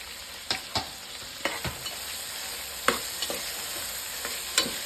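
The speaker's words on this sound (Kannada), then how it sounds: "ನೋಡಿ, ಇವಾಗ ಚೆನ್ನಾಗಿ ಫ್ರೈ ಆಗ್ತಿದೆ" Chopped capsicum fries in oil in a pan for dal khichdi, a steady close sizzle with scattered scraping stirs and spatula clacks.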